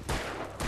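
Two quick gunshots from the Alan Wake video game, sharp cracks spaced about half a second apart, fairly close with a short ringing tail.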